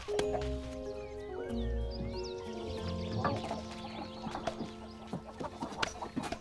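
Several hens clucking and squawking close by, a busy, overlapping mix of short calls with a low rumble underneath.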